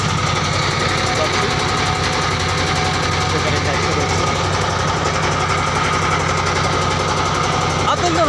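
A boat engine in the Sundarbans runs steadily as the boat pulls away, a close, continuous chugging drone with a rhythmic knock, under the sound of people talking.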